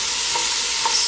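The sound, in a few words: stirring vegetables sizzling in a pan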